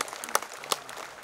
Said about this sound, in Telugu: ఒకసారి గట్టిగా క్లాప్ చేయొచ్చండి